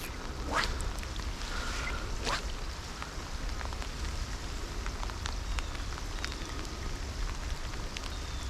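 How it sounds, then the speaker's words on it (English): Steady rain falls on a small urban creek, a constant soft hiss close by, with a few faint duck-like quacks and no talking. "I really don't mind the rain."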